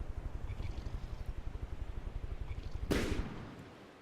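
Rapid rhythmic cannon fire pounds from a vehicle in From the Depths, a steady low thumping train of shots, followed by a single louder burst like an explosion near the end.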